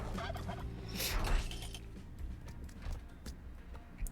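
Turkeys gobble in the Spelunky 2 video game, a quick burst of bright gobbling calls over soft game sounds and clicks, heard with no talking.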